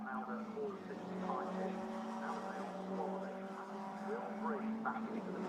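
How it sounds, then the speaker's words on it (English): Ginetta Junior race cars lap the Snetterton circuit, their engines a steady, droning roar underneath continuous commentary, with no distinct passes standing out. "So the cars work their way through again, heading up towards the line"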